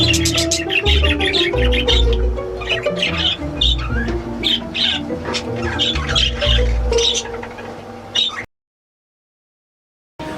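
Pet budgerigars in a breeding aviary squawk and chirp together loudly and without a break, a dense close-up chorus that suddenly cuts to silence near the end.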